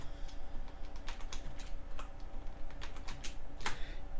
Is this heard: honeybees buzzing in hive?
no